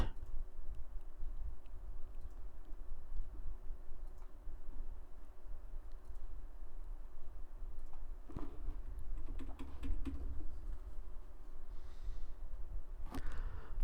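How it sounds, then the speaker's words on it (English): Light keyboard typing clicks scattered over a steady low hum, with a few sharper taps near the end; no voices. "I'm just typing it in."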